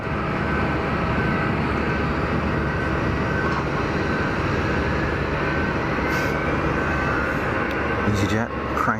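An easyJet airliner's engines roar continuously at Geneva Airport, a dense and steady rumble, with people talking faintly underneath.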